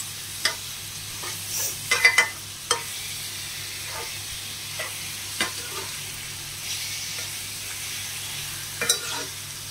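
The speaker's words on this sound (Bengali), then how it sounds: "চিকেনে যতক্ষণ না কালারটা একটু চেঞ্জ হচ্ছে ততক্ষণ একটু ভালো করে নাড়তে থাকবে।" Chicken pieces stirred in a pan over high gas for pepper chicken, a steady soft sizzle of frying under occasional scraping stirs and clicks of the utensil against the pan.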